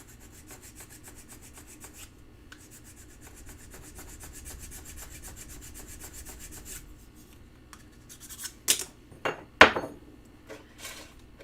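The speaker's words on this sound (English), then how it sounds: "There's a piece of solder here. We're just going to sand that off." Close, soft rubbing of sandpaper over a metal piece to take off a bit of solder, a fast even scratching rhythm that then breaks into a few louder knocks and scrapes near the end.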